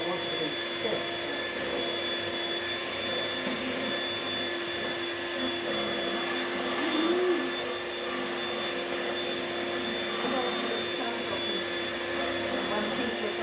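An electric whisk beating lemon meringue mixture to stiff peaks gives a steady, continuous high whirring drone at moderate loudness, with faint talking in the background.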